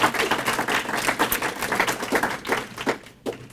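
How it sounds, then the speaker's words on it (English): An audience at a university poetry talk applauds the department chair, with a burst of many hands clapping close and lively, thinning out into a few scattered claps at the end. "So round of applause for Joanna Levin."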